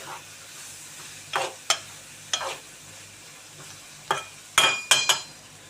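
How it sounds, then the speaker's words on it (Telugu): Dried fish and onions fry softly in a pan with a steady low sizzle, broken by several sharp scrapes and clinks as a spatula stirs them, the strokes bunching toward the end. "కలుపుతూ ఉండాలి చూడండి చక్కగా వేగుతున్నాయి"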